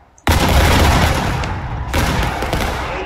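A musket volley rings out in War of Rights, a sudden loud crackling burst of many shots fired together, followed by a second ragged wave of fire and rumbling echoes, no voices over it.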